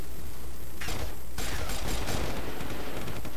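A burst of rapid machine gun fire rattles loudly and continuously in the online shooter Red Crucible 2, with dense overlapping shots and clatter throughout.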